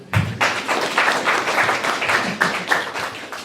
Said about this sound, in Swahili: Tupige pale Yesu makofi